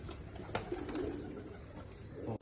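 A pair of golden pigeons coos softly at close range, a few low murmuring calls over faint background noise, with no voices.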